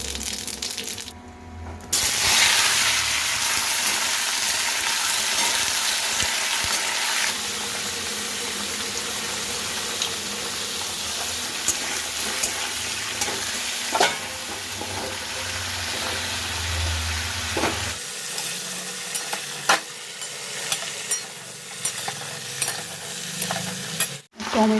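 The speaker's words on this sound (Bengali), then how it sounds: "এবার করবো সজনে ডাঁটার চচ্চড়ি। করার জন্য এখানে 5 ফোড়ন দিয়েছি" Five-spice seeds, heavy on fennel, crackle and sizzle in hot oil as the tempering for a drumstick curry, a loud, close, continuous frying hiss broken by stirring scrapes.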